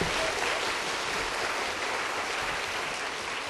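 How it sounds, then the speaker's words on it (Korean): Sustained applause from a large audience at a children's national assembly event in Korea, a steady dense wash of clapping that holds at even loudness throughout with no break. "큰 박수로 환영해 주시기 바랍니다."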